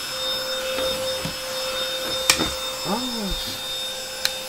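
A Silvercrest Boost Now E87 cordless vacuum cleaner runs on max mode with a steady, close motor whine, marked by occasional scraping and knocking sounds from the cleaning head.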